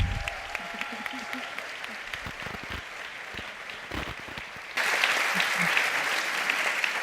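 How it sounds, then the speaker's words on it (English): Applause welcomes International Booker Prize-shortlisted novelist Astrid at a panel event, scattered clapping at first that swells suddenly into a fuller, louder round, with faint voices under it. "let's welcome her with a round of applause"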